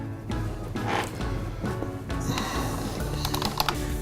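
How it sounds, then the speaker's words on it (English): Rapid keystrokes click on a computer keyboard, steady and close, with a few louder taps near the end and no talking. "Jim, you mind if I get on the keyboard?"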